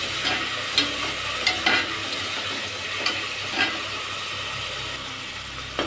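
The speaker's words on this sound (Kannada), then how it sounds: "ಸಿಕ್ಸ್ ಸೈಜು ಟೊಮೆಟೊನ ಸ್ವಲ್ಪ ಚೆನ್ನಾಗಿ ಫ್ರೈ ಆಗಲಿ" Tomatoes frying and being stirred in a pan while cooking soya chunks pulao: a steady close sizzle and hiss with a few scraping stirs of the spoon, no talking.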